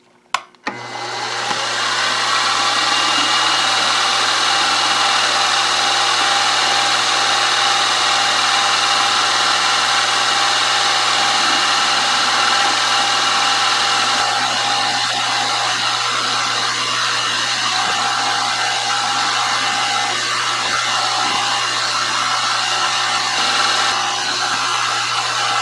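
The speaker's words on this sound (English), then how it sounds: "we'll drill the holes through with a 3/32 drill bit" A 3/32 drill bit bores holes through wooden engine beam links, a steady close motor whine droning continuously for the whole stretch after a sharp start, with no speech.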